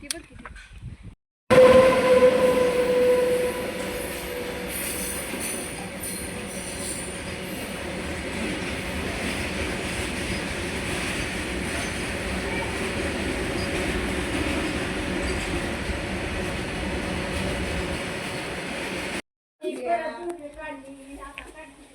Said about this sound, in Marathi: गेली रेल्वे